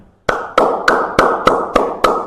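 Hands clap seven times at an even, deliberate pace, each clap sharp, loud and close with a brief ring after it.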